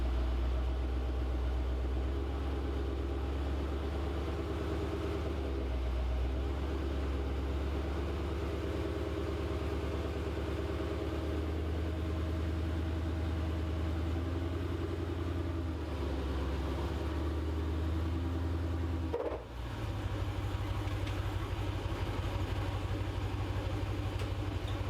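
A Dodge Challenger engine idles with a deep, steady rumble, then rises in a brief surge near the end as the car drives up onto ramps, settling back into a low throb.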